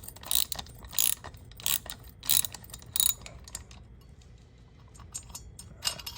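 Ratchet loosening the prop hub bolt on a DLE170 gas engine, heard as five close, sharp bursts of clicking in a steady rhythm, then a quiet stretch with faint taps and one last short burst.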